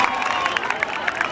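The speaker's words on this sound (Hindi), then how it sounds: "पहले नंबर पर जोरदार तालियां हो जाए इसके लिए।" Crowd applause at an Independence Day program in Bidasar, a brief burst of clapping and crowd noise with a few sharper claps standing out.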